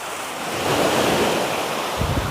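Ocean surf rolls in on an Australian beach, a broad rushing wash building and fading under gusting wind noise, with no speech.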